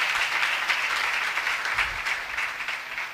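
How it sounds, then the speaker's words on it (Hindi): Congregation at a church sermon claps loudly in honour of martyrs, a dense, steady burst of many hands close by with a faint low thump partway through. "आओ उन शहदा के लिए भी जोरदार तालियां बजाएं।"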